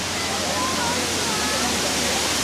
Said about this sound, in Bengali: পাহাড়ের মাঝখানে এই ওয়াটারফলসটা ক্র্যাংসুরি ওয়াটারফল।